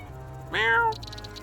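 A single short, rising-and-falling meow sounds close and clear over a low hum, most likely a voice imitating a cat.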